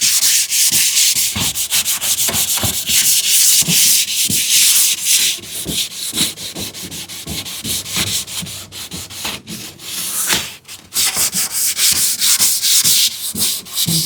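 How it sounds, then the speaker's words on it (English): Mild hand sanding of a wooden shoe tidy ahead of a shellac finish, a steady run of close, scratchy back-and-forth rubbing strokes with brief pauses between passes. "can I do a mild sanding?"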